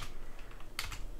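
Quick bursts of clicky keystrokes on a computer keyboard as code is entered for a Raspberry Pi camera script, a short run of taps with a louder cluster near the end.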